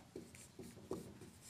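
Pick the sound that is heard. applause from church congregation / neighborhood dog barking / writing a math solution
writing a math solution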